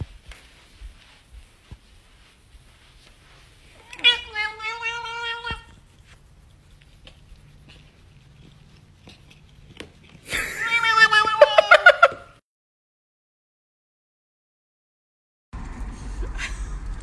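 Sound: cat meowing

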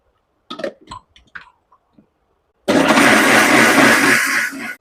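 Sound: mixer grinder grinding soaked rice and fenugreek

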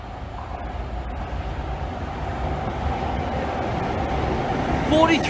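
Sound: Virgin Trains East Coast train from King's Cross to Aberdeen

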